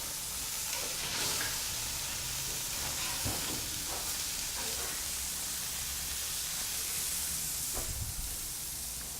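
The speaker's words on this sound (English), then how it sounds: "I'm going to flip my burgers." Burgers sizzle and fry over an open fire in a steady, continuous hiss, with a few soft crackles and scrapes rising briefly above it, close by and with no talking.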